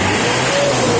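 A Mitsubishi L200 diesel pickup engine revs lightly before a tune-up, a loud, close, steady roar with a faint whine and no talk.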